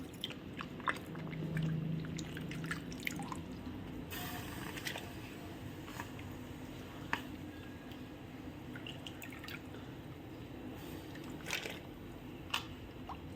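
Sliced potatoes for white wafers are rinsed in a bowl of water, giving faint, sporadic splashes and drips. Soft clinks and sloshes are spread across a quiet background.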